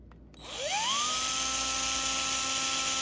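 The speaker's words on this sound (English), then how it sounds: "you're going to want to keep reaming the drill bit in and out each time you go up in size" A drill spins up from silence to a high, steady whine as the bit reams out a tobacco pipe stem to take a filter, loud and close with a slight rising pitch at the start.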